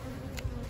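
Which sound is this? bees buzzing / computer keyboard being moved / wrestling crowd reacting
bees buzzing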